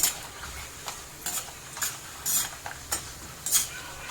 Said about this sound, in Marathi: आपण दालचिनी टाकूया ही पण तेलामध्ये चांगली फ्राय करून घ्यायची आहे